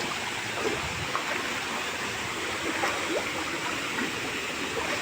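Strong, rushing water pours continuously, a dense steady roar like a fast stream or small waterfall close by.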